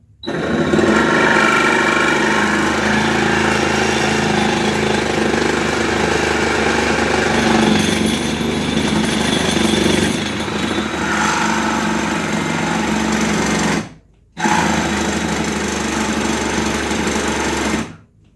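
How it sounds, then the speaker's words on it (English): A Milwaukee M12 Fuel cordless hacksaw (2520-21) cutting on a bench top, its loud, buzzing reciprocating motor running steadily for most of the stretch, stopping briefly and then resuming, with no talk. "it's just the M12 Fuel version of their Hacksaw. Now let's give this a shot."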